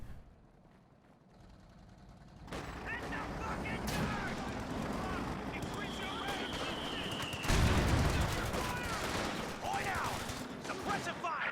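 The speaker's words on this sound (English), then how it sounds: "But Paul is really dodging these Calliope barrages extremely effectively." Calliope rocket barrage in the World War II strategy game Company of Heroes 2, a dense rolling mass of rapid launches and blasts with whooshing rockets, heavier impacts partway through, over engine noise and shouting voices.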